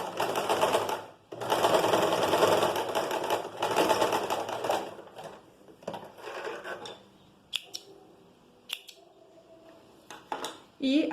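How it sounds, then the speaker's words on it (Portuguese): A sewing machine stitches the side seam of a pleated skirt at a 1 cm allowance, long fast whirring runs broken by short stops, backstitch bursts and clicks of fabric handling. "vou costurar ela com 1 centímetro de distância"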